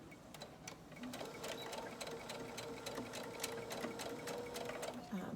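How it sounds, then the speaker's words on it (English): Sewing machine stitching a long side seam with pockets on fabric at a 5/8-inch allowance, running steadily with a rapid, even needle rhythm, close and continuous throughout. "Okay, so now I'm going to sew it."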